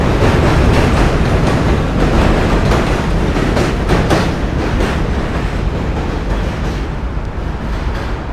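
A train rumbles loudly and steadily past on the Williamsburg Bridge in New York City, with dense rattling clatter of the rail cars close by throughout.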